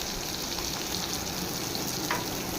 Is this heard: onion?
yes